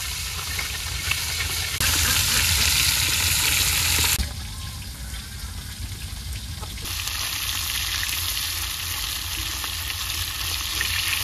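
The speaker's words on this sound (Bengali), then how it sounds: "মাছ ভাজা বয় দিলাম" Fish coated in turmeric and salt frying in a pan, a loud steady sizzle and crackle that surges and shifts in intensity over several seconds, with occasional stirring sounds and no talk.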